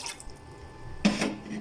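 Water poured into a pan for lemongrass tea, a brief splash and trickle near the start and a louder pour around one second in, close and alone with no talk.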